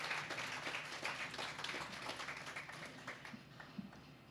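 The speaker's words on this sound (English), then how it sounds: "give us a clap for that" An audience applauds at a live announcement event in Amarillo for the Texas Tech University School of Veterinary Medicine, with dense, steady clapping that carries throughout and thins slightly toward the end.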